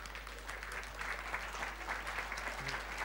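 A conference audience applauds a panel speaker with steady, soft clapping that sounds distant and fairly quiet, while a low hum runs beneath it.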